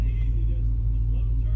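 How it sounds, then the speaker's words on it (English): An off-road vehicle on rocky trail ground with its back tire spinning to engage a locking differential, giving a close, loud, steady low engine drone with brief voices in the background. "To spin the back tire to get my locker to lock in"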